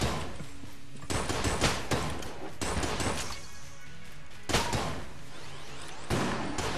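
Rapid bursts of gunfire in the video game Enter the Gungeon, loud repeated volleys of shots coming in separate clusters with brief gaps between them.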